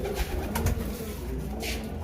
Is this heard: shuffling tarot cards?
no